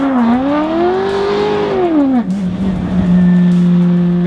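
A 900HP V8 Volkswagen Passat drift car engine revs hard, pitch climbing and falling then settling into a steady high idle, loud and close with no talk.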